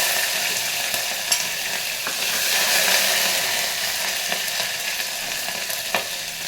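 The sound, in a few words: curry leaves, green chili and ginger paste frying for masoor dal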